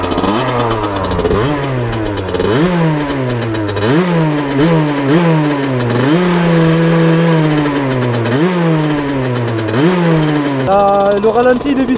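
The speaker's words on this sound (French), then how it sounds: "Le ralenti il est vissé à fond donc c'est pour ça ça s'emballe là." A Gilera SMT racing moped engine warms up with its idle screwed fully in, so the high idle keeps surging and hunting in a loud, close buzzing rise-and-fall that repeats throughout.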